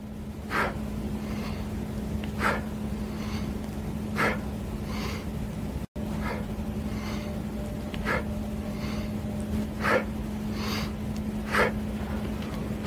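Sharp, rhythmic exhalations during a dumbbell exercise, about one every two seconds, close over a steady low hum.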